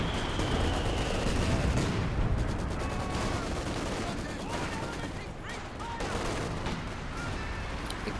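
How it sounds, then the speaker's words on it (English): Distant artillery fire from base howitzers in a World War II strategy game match, rumbling as a dense, continuous barrage of booms and crackling gunfire that stays loud and steady throughout. "Sniper just landed some base howitzer artillery right outside the Axis base."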